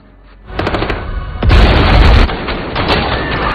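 An explosion in a film action scene about a betrayed ex-soldier attacking government officials, made of heavy booming blasts and crackling bursts that rise to a loud, deep roar and fade into a rumbling aftermath.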